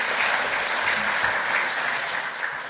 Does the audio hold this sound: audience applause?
yes